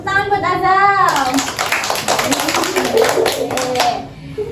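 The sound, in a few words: children clapping hands in class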